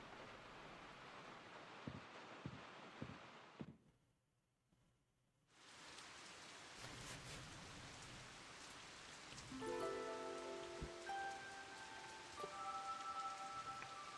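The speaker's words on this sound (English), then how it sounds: "Perhaps it's because of this rainy weather we've been having." Steady rain falls as a soft continuous hiss in the video game Tales of Graces f. It drops out briefly partway through, then resumes with faint tonal game sounds layered over it and no voices.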